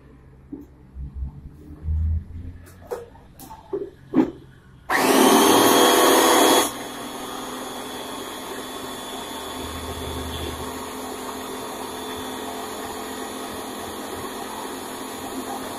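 A kitchen blender mixes milk, sugar and water for a banana shake, a loud steady whirring burst for about two seconds, then a lower continuous motor hum, after a few soft knocks and clatters.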